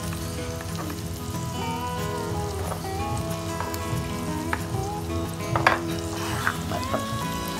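Sliced onions frying in butter in a pan sizzle and crackle steadily throughout at close range, with occasional louder pops and stirring clinks and no talking.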